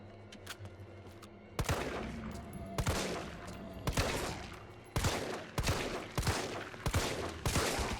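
Repeated gunfire in Resident Evil 3 as a player tries to shoot an enemy's leg off: a scatter of faint pops, then loud sharp shots at irregular intervals, roughly one per second, with echoing tails.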